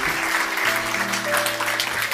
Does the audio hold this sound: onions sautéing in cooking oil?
no